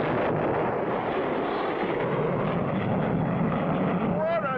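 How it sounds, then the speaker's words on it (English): Cartoon aircraft blasting off on a test flight, a dense, roaring rush of engine noise that holds steady and loud throughout, with a faint whistling sweep rising near the end. "What a takeoff!"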